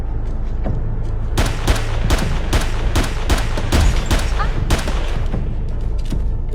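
Rapid bursts of gunfire fill a BR1: Infinite match, with repeated sharp shots and volleys landing at an uneven rhythm over a steady background din, loud and close throughout.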